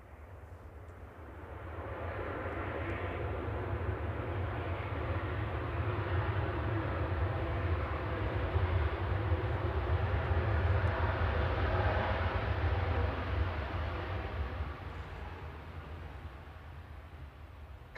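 An airliner coming in to land at Manchester Airport gives a sustained, broad jet roar that swells in the middle and then eases off, with no talk over it.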